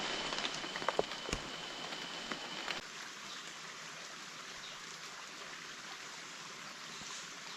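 Steady morning rain hisses down in a continuous wash, with a few sharper drips and taps early on before settling into an even, moderate patter with no talk.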